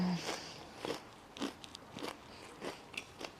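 Someone bites repeatedly into a sandwich filled with crinkle-cut crisps, giving about six sharp, close crunches with crackly chewing between them at a quiet level.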